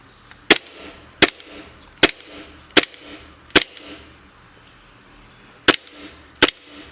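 Gas blowback BB pistol fired seven times in uneven succession, each shot a sharp, loud crack with the slide snapping back, separated by short quiet gaps.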